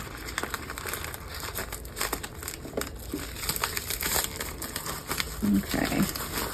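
A mailed package of craft pigment powder is opened with scissors, making close, crisp crinkling and rustling of packaging in irregular bursts.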